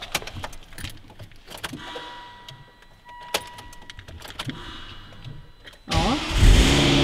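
A Volvo S80 engine cranks and catches after a borrowed relay is swapped in. Quiet clicks and key jangling come first, then the starter whirs and the engine fires into a loud, rising idle near the end.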